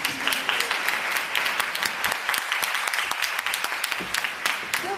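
An audience at a talk on women's entrepreneurship claps to welcome a speaker onto the stage, a continuous burst of crisp, sharp hand claps lasting the whole stretch with no voices over it.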